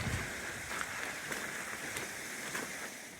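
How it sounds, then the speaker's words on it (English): Light rain falling on a hiker's rain gear and rucksack cover on a mountain trail beside a river in the Scottish Highlands: a soft, continuous patter with occasional slightly louder taps, close and steady, no talk. "it's light rain at the moment"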